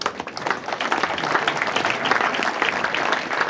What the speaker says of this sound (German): Wie klingt denn hier so ein Applaus